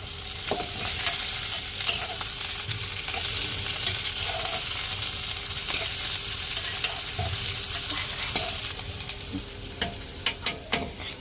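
Chopped onion frying in a pan while being stirred, a continuous sizzle close by with scraping from the spoon and a few sharp knocks near the end.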